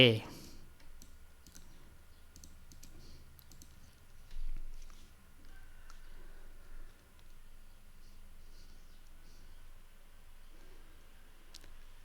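A computer mouse clicks a few times while LLVM-MinGW is installed, faint sparse taps under quiet room tone with someone speaking intermittently.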